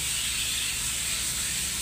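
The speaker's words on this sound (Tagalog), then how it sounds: "Power spray." A power spray washer hisses steadily while cleaning bikes, giving a loud, continuous broadband rush with no pauses and no talk.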